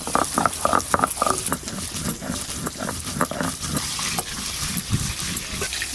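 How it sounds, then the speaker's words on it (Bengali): Mustard seeds sizzle and pop steadily in hot oil in a pan, a dense crackling patter with frequent small bursts, close and fairly loud, with no voices. "এবার সরষে ভেজে নেব।"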